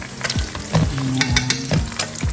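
Corned beef and eggs fry in a hot pan with a steady close sizzle, broken by brief scrapes and clinks of a spatula stirring the food.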